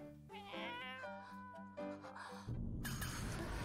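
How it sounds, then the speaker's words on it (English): Several cats meowing in a scene from the anime Komi Can't Communicate, a run of clear, tonal meows close by, followed by a louder burst of rustling noise near the end. "I hope some of the cats actually come up to Komi"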